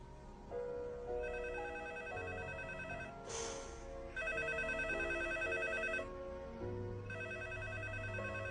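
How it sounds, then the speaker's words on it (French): A telephone rings on and on, unanswered, in repeated electronic bursts with short pauses between them, fairly quiet over a faint room hum. "Tu ne réponds pas au téléphone?"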